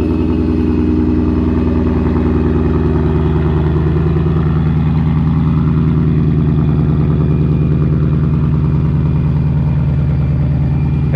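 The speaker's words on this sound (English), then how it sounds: "so it's idling up a little high" A boosted 2019 Ford Mustang Bullitt V8 idles slightly high after a cold start, a loud, steady, close rumble with a throbbing exhaust pulse and faint mechanical clatter, no voices.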